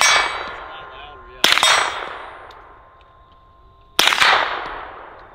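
Two gunshots striking steel targets at an outdoor range, each a sharp ringing clang that decays slowly with a metallic hum, spaced about two and a half seconds apart.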